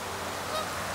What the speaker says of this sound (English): All these geese playing in this weir, feeding in this weir.